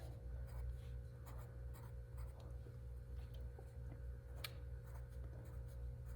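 A pencil scratches steadily across paper in small repeated strokes, sketching little U-shaped shingles on a roof line, close and quiet over a low background hum.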